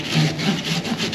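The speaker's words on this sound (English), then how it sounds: "But if I just sand this down a tiny bit, I'll be able to remove this spindle when it's on the vehicle" A metal spindle from a Teraflex lockout hub and full-float conversion is sanded by hand, giving a steady, close, rhythmic scraping with repeated strokes and no talking.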